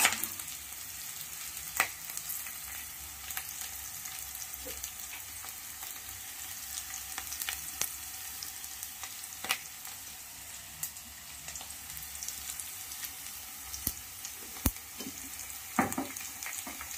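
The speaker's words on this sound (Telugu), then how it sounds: "కొంచెం ఎర్రగా వచ్చేలా వేయించాలి." Onions fry for poha in a pan, a steady close sizzle and crackle running throughout with scattered light scrapes and clicks of a stirring spoon, no voices.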